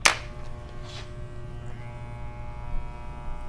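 Electric hair clippers fitted with a small guard buzz in a low steady drone while cutting curly hair, with faint brushing and snipping textures and no talking.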